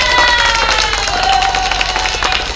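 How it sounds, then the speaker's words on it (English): An audience claps and cheers loudly and continuously, a dense wash of hands with scattered whoops and a faint musical tone running underneath. "ahead and give him a round of applause."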